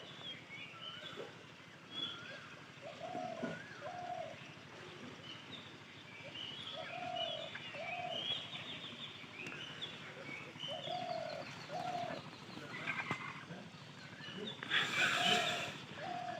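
Pigeons coo softly in a loft, repeated low rounded calls arriving in short bursts over quiet background with a few chirps, fairly distant and faint.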